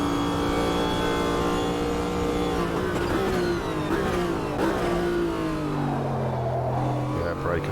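A Group C race car engine in the racing game Automobilista 2 revs loud and continuous through gear changes, pitch climbing and dropping under braking, with someone talking over it.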